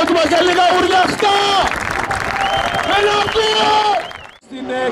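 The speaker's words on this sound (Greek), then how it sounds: "Πάμε ένα δυνατό χειροκρότημα για λίγα ουρλιαχτά." Crowd applause and cheering at a drift event in Serres, a dense burst of clapping and shouting with an announcer talking over it before it drops away near the end.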